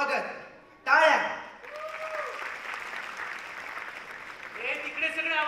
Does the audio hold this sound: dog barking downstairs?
no